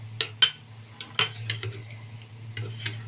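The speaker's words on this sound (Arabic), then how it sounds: "وادوب بقى ده كله مع بعضه كده" A spoon clinks against a bowl while salt, cumin and chili are stirred together into a spice mix, giving a few sharp metallic taps followed by softer, irregular scraping that stays close and fairly quiet.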